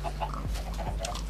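Chickens in a coop in Minecraft give a few short clucks over a steady low hum, fairly close and moderately loud, with no talking.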